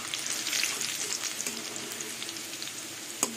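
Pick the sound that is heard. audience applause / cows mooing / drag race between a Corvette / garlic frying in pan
garlic frying in pan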